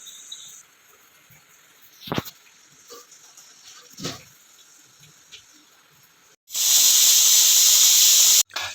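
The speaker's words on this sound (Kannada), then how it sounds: "ಸ್ವಲ್ಪ ಅರಿಶಿಣ ಪುಡಿ ಹಾಕಿ ಕುಕ್ಕರ್ ಮುಚ್ಚಳಿ ಮುಚ್ಚಿ ಹಾಗೆ ವಿಸಿಲ್ ಹೊಡಿಸ್ಬೇಕು" A pressure cooker holding pork curry with turmeric lets out a loud, sustained steam whistle for about two seconds near the end, after quieter kitchen clatter and a couple of soft knocks.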